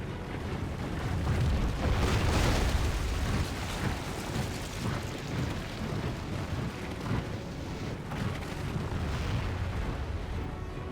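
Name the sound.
catapult shots in video game Total War Third Age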